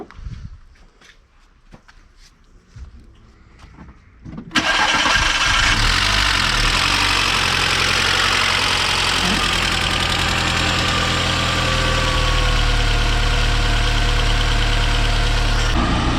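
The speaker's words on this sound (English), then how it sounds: "All right, well, the car is running pretty smooth now." A Volkswagen Mk4 Golf wagon engine cranks and starts after a few seconds of quiet shuffling, then settles into a loud, steady, even idle that runs to the end.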